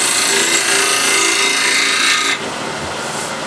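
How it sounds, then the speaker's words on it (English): A negative rake scraper drawn across a flat ash wood surface, a close, loud, rasping scrape that runs for a couple of seconds and then eases off. "that's a nice pass with the scraper, and that's pretty decent surface"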